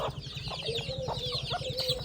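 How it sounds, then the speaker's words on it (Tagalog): Chickens cluck steadily at close range, several birds overlapping in short repeated calls over a low background hum. "Ayan, mga alaga namin manok."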